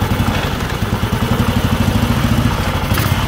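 A 1960 Norton ES2 500cc single-cylinder motorcycle runs loud and close with a steady, even thumping beat and mechanical clatter. No one speaks.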